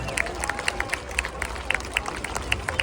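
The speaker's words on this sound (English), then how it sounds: "Let's give the Synchro pair and Red 8 a massive round of applause" Applause and cheering from an airshow crowd at the Ayr Show as the Red Arrows Synchro pair finish, a dense patter of claps with sharper individual claps standing out, moderately loud and steady throughout.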